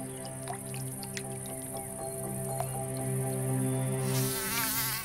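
A mosquito in a wildlife close-up setting gives a steady, thin whining hum that persists throughout, with a few faint clicks and a brighter swell near the end, no voices present.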